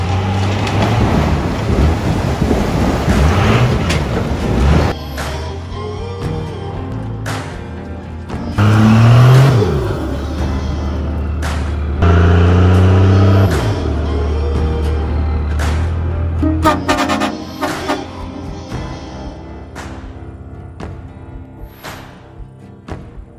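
2nd Gen Cummins diesel pickup hauling a 53-foot semi trailer through wooded trails, loud engine revving and labouring in surges, with rising and falling pitch and rattling clanks, strongest in bursts mid-way before easing off.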